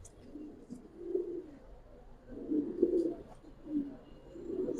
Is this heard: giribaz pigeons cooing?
yes